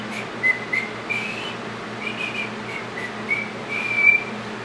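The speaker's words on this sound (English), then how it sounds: "whistling while we work." Someone whistles a light, wandering tune in short phrases, fairly close, with no talking.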